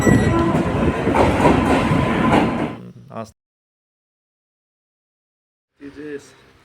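A train on the Falakata to Sealdah route, heard from on board. A loud rumble and clatter of the carriage lasts about three seconds, then cuts to silence, and a brief voice follows near the end.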